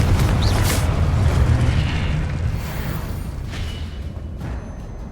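A Confringo blast spell in a Harry Potter video game goes off as one loud booming explosion, then rolls into a long rumbling decay that fades gradually.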